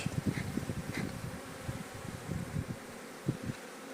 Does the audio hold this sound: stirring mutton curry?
no